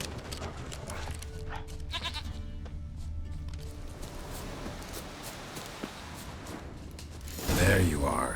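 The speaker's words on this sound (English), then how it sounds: "Here, goat." Goat bleating from The Witcher 3 game, several repeated nasal bleats over a steady low ambient game soundscape, with a louder rustle near the end.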